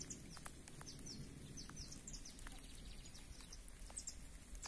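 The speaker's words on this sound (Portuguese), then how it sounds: "Os passarinhos estão fazendo a festa aí." Several short bird chirps scattered over a steady low rumble of background noise, fairly faint and distant, near woodland and a lagoon between Claraval and Ibiraci, Minas Gerais.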